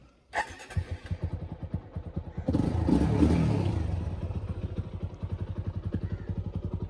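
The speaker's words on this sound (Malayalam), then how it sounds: "അപ്പോൾ വണ്ടി ഒന്ന് ഫയർ അപ്പ് ചെയ്തിട്ട് ഞാൻ കാണിച്ചു തരാം" A stock Apache RTR 200 motorcycle with stock engine and exhaust cranks briefly, fires up with a burst of revs, then settles into a steady, close, rhythmic thumping idle.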